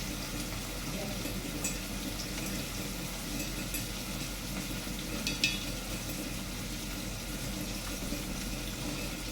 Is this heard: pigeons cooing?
no